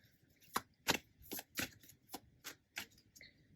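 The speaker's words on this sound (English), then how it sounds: "it's quite difficult to shuffle like this because the camera's right in front, but I will try and do my best" Tarot cards being shuffled by hand, a series of about eight crisp riffling bursts at a steady, slightly uneven pace, close and fairly quiet with no talking.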